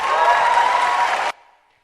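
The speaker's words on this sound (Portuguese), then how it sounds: "Olha as palmas" An audience applauds after a talk at a debate event, a full, even burst of clapping that stops abruptly, leaving near silence.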